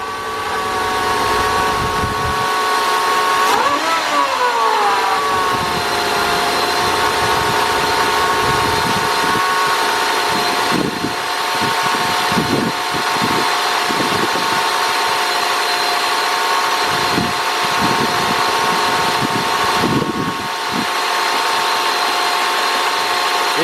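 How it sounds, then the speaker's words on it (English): A 2000 Nissan Maxima engine idles steadily nearby, its revs dropping slightly early on and then holding, with scattered clicks and knocks in the background and no voices. "Let's see if this idle goes down by itself."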